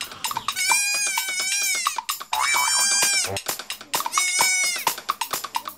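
A young goat bleats loudly three times in long, wavering cries with short pauses between, close by and clear.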